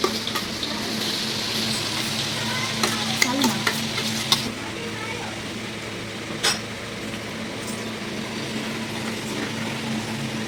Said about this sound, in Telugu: ఇంకా ఎల్లిపాయలు వేసేసి పోపేసేస్తున్నా.